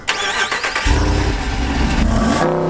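A 6.4 liter engine in a RAM truck revs hard and loud up close, a sharp starting burst giving way to a sustained deep roar that holds steady throughout.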